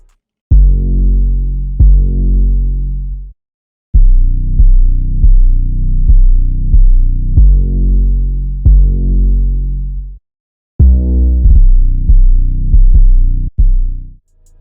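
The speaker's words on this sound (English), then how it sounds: "I'm using the 808 Lotus. And I just laid down a pretty simple pattern that has some rolls at the end." 808 Lotus bass pattern of deep booming sub-bass hits with short pauses, ending in quick triplet rolls, loud and alone.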